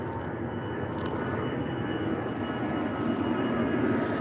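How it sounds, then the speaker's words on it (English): Airplanes pass overhead, producing a steady, broad engine roar that swells slightly toward the end, with no talking. "Look at all these planes coming by."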